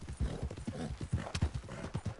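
Horse hooves clip-clop steadily in a woodland valley within a hunting video game, a rapid close rhythm of hoofbeats with a brief whinny partway through.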